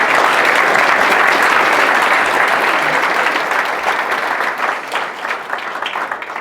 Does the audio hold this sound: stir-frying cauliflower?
no